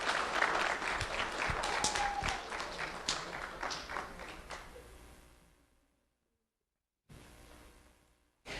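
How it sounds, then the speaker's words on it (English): An award-ceremony crowd claps for a winner, with distinct individual claps in a lively round that thins and fades out into silence before a brief burst of room noise returns near the end. "Let's have a round of applause for Tristan Jones."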